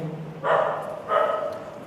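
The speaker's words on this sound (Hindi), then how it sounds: "बाहर कुत्ता आ गया है, आने दो, भौंकने दो" A dog outside barks twice, two distinct woofs about half a second apart, moderately faint and somewhat distant, with no talk over them.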